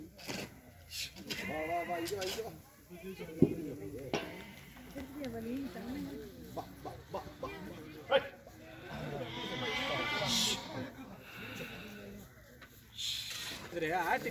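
Repeated goat bleats sound from a goat farm in Mannavanur near Kodaikanal, surrounded by forest, rising and falling under continuous nearby talk with a few clanks.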